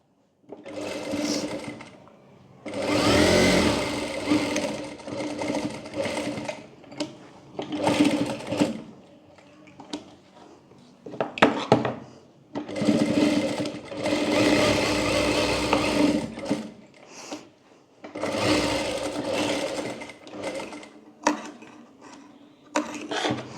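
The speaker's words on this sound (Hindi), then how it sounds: "अब इस तरह से करने के बाद यहाँ पर ऊपर वाले पार्ट में हम सिलाई कर लेंगे।" A sewing machine stitching a deep-neck back-hook blouse, running in long bursts of rapid mechanical whirring separated by brief pauses, close and fairly loud.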